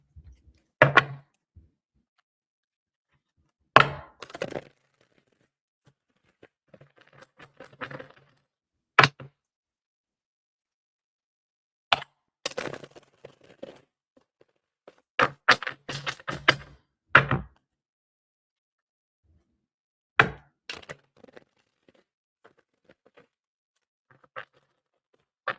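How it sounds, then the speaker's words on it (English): Tarot cards being shuffled for a reading, heard as scattered crisp riffles and soft card slaps in short bursts separated by quiet gaps, close and fairly faint, with no talking. "Let's get a good shuffle here"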